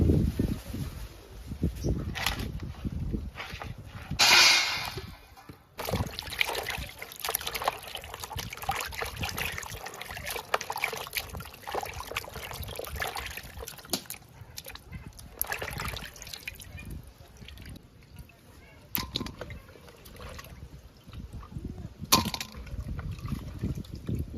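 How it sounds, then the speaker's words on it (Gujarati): Tap water runs while vegetables are washed in a home kitchen: a continuous trickle and gush for about 24 seconds, rising and falling as the vegetables are handled, with occasional splashes and clatters. "ત્યાં સુધી આપણે શાક ધોવાનું હોય ધોઈ નાખીએ શાક ધોઈએ"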